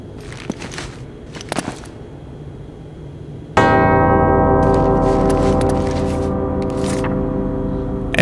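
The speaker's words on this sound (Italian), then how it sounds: "Due campane risuonano in perfetta armonia." Two bells ring together in the Uncharted: Drake's Fortune video game, a loud sustained harmonious toll that starts suddenly after a few soft clicks and keeps resonating with a long, shimmering decay.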